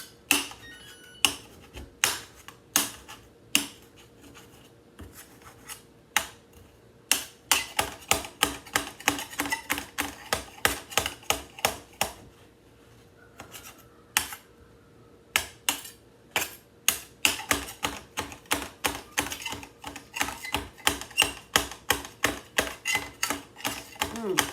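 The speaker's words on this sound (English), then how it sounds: "I'm probably going to cut up a little bit of basil." A knife chops fresh basil on a cutting board in rapid, sharp taps, sometimes in quick bursts and sometimes spaced apart, close and distinct, running on for many seconds with brief pauses.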